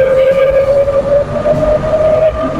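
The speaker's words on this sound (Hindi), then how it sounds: "ये रही ट्रेन।" A Paris RER double-decker train passes close with a loud rumble and a sustained squealing tone riding over the rolling noise, steady throughout.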